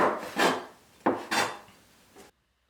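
A knife slices through a pepper on a cutting board, giving four separate scraping cuts in an uneven rhythm, close and fairly quiet, then silence.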